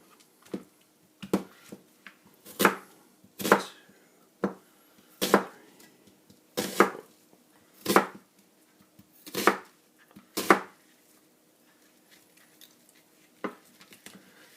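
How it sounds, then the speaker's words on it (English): A knife dicing an onion on a cutting board, a series of about a dozen distinct chops in an uneven rhythm, close and clear, with no talk. "Everyone has their technique for dicing onions."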